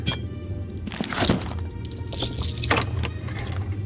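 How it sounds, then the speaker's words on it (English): A heavy rusted key is worked in a stubborn iron door lock in the game Shadowgate, producing a few metallic jangles and scraping clicks over a low steady hum, fairly close and brief. "You struggle with both hands, turn the key in the stubborn lock, a satisfying click echoes through the chamber"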